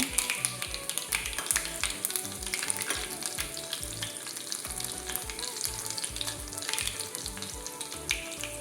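Mustard seeds and garlic fry in hot oil while a timare (Centella) chutney is being made. A steady, close sizzle runs throughout, dotted with sharp popping crackles and a few light taps, with no talk.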